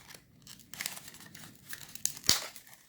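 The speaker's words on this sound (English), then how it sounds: "If you make an error, which I think I did, just peel it off" A stuck-on paper star piece is peeled away in short, dry tearing and crinkling bursts, close and fairly quiet, with a sharper rip near the end; no talking.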